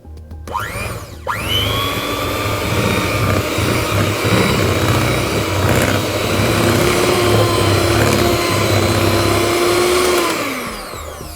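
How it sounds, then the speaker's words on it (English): An electric mixer whisks cream cheese frosting for kunafa cupcakes, starting up after a brief moment, then running as a loud, steady whirring drone with a rising pitch at the high-speed finish before winding down. "give it a final 10 to 15 seconds of whisking"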